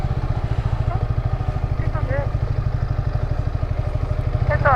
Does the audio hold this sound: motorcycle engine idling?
yes